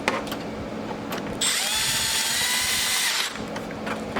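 A handheld power tool gun spins up on bolts while a front splitter is fitted to a C8 Corvette Z06 or E-Ray, giving one rising whir of about two seconds between quieter handling clicks and shop noise.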